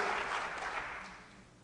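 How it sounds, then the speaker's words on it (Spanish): A church congregation applauds during a sermon, a brief burst of dense clapping that fades within a couple of seconds. "Dele palmas al Señor de la gloria"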